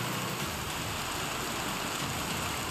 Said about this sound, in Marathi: नवी मुंबईत पावसाची संततधार आहे